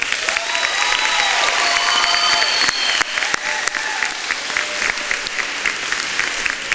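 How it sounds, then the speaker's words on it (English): A school audience at a senior signing day bursts into loud, sustained applause, with a few whoops and sharp individual claps rising above the steady clapping throughout. "Can we give it up for them?"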